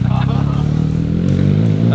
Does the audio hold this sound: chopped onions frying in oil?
no